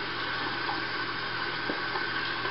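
Running water rinses shaving cream off a head, a steady close splashing stream from a tap with no break.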